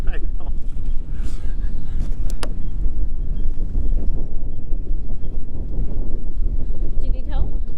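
Strong wind gusts roar steadily across a boat's microphone in rough weather ahead of 25 to 30 knot winds, with heavy low rumble throughout and faint voices in the background.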